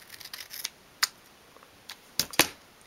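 Scissors cutting a small piece of material in half while making a 1/12 scale dolls house sofa, a few sharp close snips spaced unevenly, quiet between.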